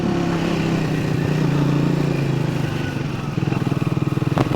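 A motorbike rides through the forests of the Isle of Arran with a close, steady engine drone that turns into a rhythmic, pulsing putter near the end.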